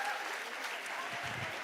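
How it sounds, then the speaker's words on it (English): Applause from an audience near the close of a college event, a dense, even patter of clapping heard from a distance at low level, with some low thumping toward the end. "Can we have a thunderous round of applause?"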